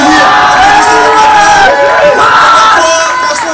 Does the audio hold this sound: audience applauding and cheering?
yes